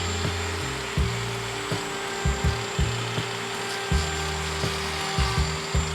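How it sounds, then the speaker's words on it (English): A handheld grinder trims sheep hooves on a farm, running with a steady whine and rhythmic dips and bumps as it bites the hoof every half second or so. "Keep your grinder more vertical."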